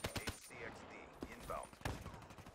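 Assault rifle fire in Black Ops 3 zombies-style play: scattered sharp shots and short bursts mixed with game effects and creature-like calls, at moderate loudness over background din.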